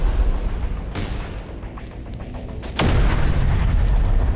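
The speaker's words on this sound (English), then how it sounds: "The artillery hit just shy of it" Artillery shell bursting in a war video game, a loud broadband boom landing midway and leaving a sustained heavy rumble, with a fainter earlier thud before it.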